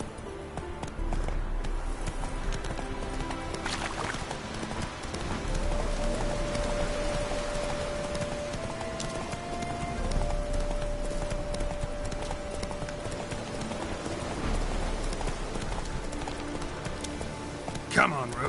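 Rhythmic clip-clop of the horse Roach's hooves in The Witcher 3 video game, continuous and close, with faint rain-like patter and a tonal game backdrop underneath.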